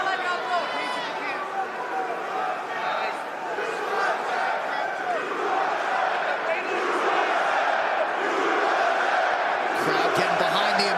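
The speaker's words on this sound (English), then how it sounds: "Crowd getting behind the American fighter with the USA chants." A large crowd at an MMA fight between Aljamain Sterling and Movsar Evloev chants USA in a rhythmic, sustained roar that fills the arena. A commentator talks over it.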